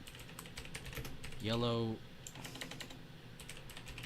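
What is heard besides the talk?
typing on a Borderlands-themed computer keyboard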